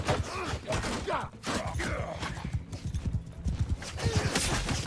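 Hooves pound in a fast galloping rhythm in Mount & Blade II: Bannerlord, loud and close, with a horse whinnying amid the thudding.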